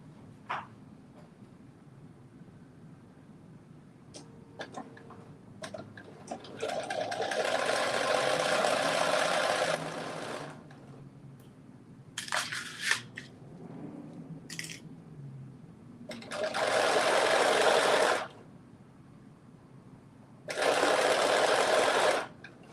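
A home sewing machine stitches a garment's front to its back at the shoulder seams, running in several loud, steady bursts of a few seconds each, with short pauses and light handling noises between them and no talking.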